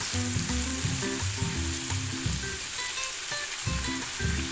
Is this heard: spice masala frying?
yes